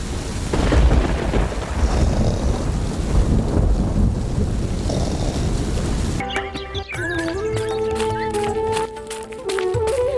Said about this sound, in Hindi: बाहर बारिश अब भी हो रही थी